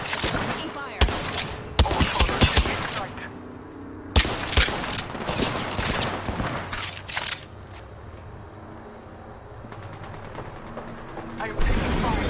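Bursts of gunfire in a combat video game, loud and dense in the first four seconds, returning around six to seven seconds and again at the end, with quieter battle noise in between and a voice talking over it.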